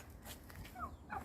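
Turkeys give two short, faint calls in quick succession outdoors, over a low background rumble.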